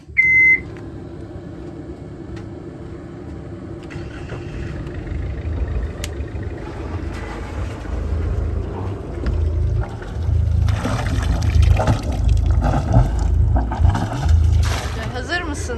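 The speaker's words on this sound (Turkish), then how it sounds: "Motor çalıştıralım." A boat's inboard motor starts on a cove mooring, a low rumble building and swelling louder through the second half, with a short beep at the start and people talking over it.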